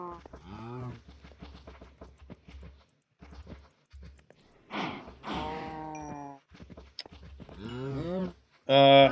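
A Minecraft cow in a vanilla 1.21.4 world lets out several drawn-out, tonal moos, the loudest near the end, with a few softer sounds between them.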